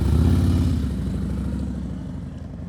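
Motorcycle engine during slow-speed riding practice in a parking-lot drill, a close, loud puttering rumble at low revs that fades gradually as the bike moves off.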